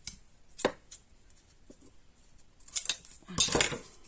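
Paper cards being trimmed with scissors while making storage for contest cards, giving a few crisp snips and clicks: one sharp cut early, then a louder cluster of cutting and handling noises near the end. No one talks.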